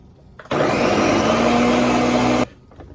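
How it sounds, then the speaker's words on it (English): A food processor blends Oreo cookies with moonshine in one loud, steady whirring burst of about two seconds that starts and stops abruptly, with faint clatter before and after. "We're going to mix the Oreos, the moonshine, put them in a food processor"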